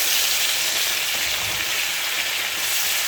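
Sucuk, Turkish sausage, frying in a pan: a continuous loud hiss and sizzle with faint scraping of stirring underneath, no voices.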